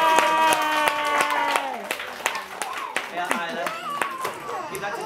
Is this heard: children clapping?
yes